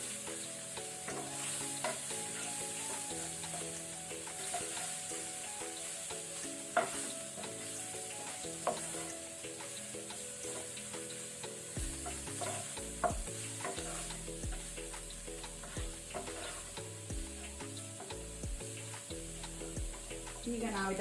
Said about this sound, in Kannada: ಇದನ್ನು ಲೋ ಫ್ಲೇಮಲ್ಲಿ ನಾವು ಸ್ವಲ್ಪ ಫ್ರೈ ಮಾಡಿಕೊಳ್ಳುವ ಮಸಾಲವನ್ನು